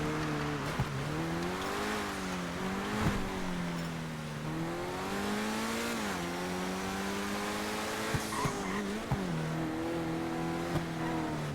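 A car in GTA Online drives with an engine droning up and down through repeated gear changes, with occasional sharp ticks and brief squeals of tires, moderately quiet and steady over several seconds.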